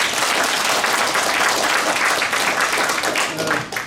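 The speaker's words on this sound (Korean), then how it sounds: "다시 한번 박수 한번 쳐주시죠" Sustained audience applause at a Korean academic seminar ceremony in the War Memorial, held at steady loudness throughout with no voices rising above the clapping.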